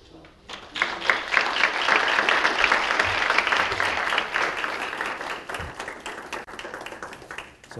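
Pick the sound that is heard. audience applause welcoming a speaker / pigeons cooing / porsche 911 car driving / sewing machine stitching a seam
audience applause welcoming a speaker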